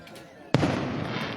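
Fireworks bursting over a riverside festival in Lockport, Pennsylvania, at night: a sudden sharp boom followed by a sustained crackling, rumbling wash that fills the rest of the moment at moderate distance.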